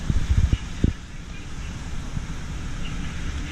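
Inside a car driving through Hurricane Florence in 2018, a steady roar of wind and road noise fills the cabin, with a few low thumps at the start.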